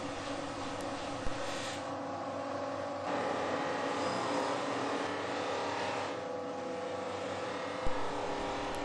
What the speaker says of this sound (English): it's a very simple case of just bringing them to the polishing mop